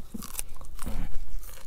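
A wilted daylily flower being bitten and chewed up close, with crisp crunching bites over less than two seconds and no talk.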